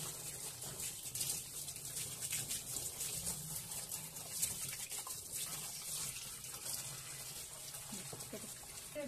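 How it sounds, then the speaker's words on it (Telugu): Water pours steadily into a Voltas washing machine during cleaning, a continuous hissing gush that stays fairly even and moderately quiet throughout, with faint clunks near the end. "ఇప్పుడు ఇందులో నేను వాటర్ వేస్తున్నాను"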